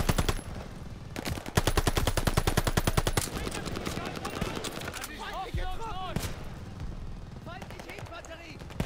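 Machine gun fire in Call of Duty: Vanguard, long dense rapid bursts of automatic fire up close, then scattered shots as voices call out over the battle.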